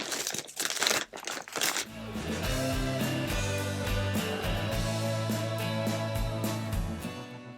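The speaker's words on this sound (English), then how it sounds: "Let's get some scissors and open the parcel." Wrapping on a jewelry-making supply parcel crinkles and rustles up close for about two seconds, then gives way to steady background music that carries on to the end.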